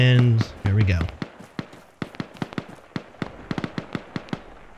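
Gunshots in the video game Arma 3, a string of sharp, distant cracks firing irregularly in quick succession, after a brief voice and low rumble at the start.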